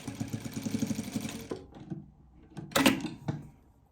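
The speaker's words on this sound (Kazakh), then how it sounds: "Келесі бізде ақ матадан 3×3 сантиметрлік бетпе-бет қойып, лапканың бойымен тігіп шығамыз." A sewing machine stitches white fabric along the presser foot, running in a steady burst, then in short, quieter stop-start spurts.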